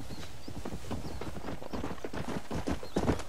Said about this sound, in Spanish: Oh, lindo caballo, por favor, galopa por estas estepas y vente junto a mí.